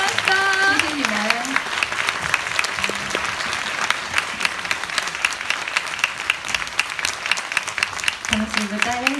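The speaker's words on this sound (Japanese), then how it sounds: "それでは皆様に大きな拍手をお送りください。" Audience applause at a film festival stage greeting in Osaka, with sustained, dense clapping filling the hall while a host's voice speaks briefly at the start and end.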